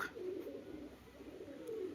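A single unpaired male pigeon gives a faint, low, continuous murmuring coo, soft and steady with no voices over it.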